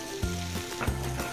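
Cumin seeds hit hot oil in a pan for a chef's Indian dal fry, giving two short bursts of sizzle over a steady low hum, close and fairly loud with no voices.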